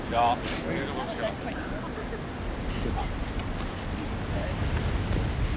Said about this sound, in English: And there's the wind.